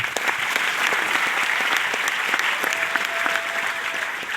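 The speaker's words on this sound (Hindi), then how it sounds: "एक ताली हो जाए उनके लिए" Audience applause at a business team gathering, many people clapping in a continuous, fairly loud wash, with a faint steady whistle-like tone appearing partway through.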